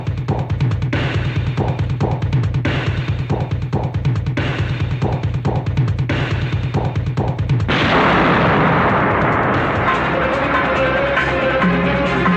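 A string of firecrackers bursts in a Tamil film fight scene: rapid, loud crackling pops in quick rhythmic runs, then a dense final barrage.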